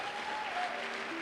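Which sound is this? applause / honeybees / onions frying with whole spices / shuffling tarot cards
applause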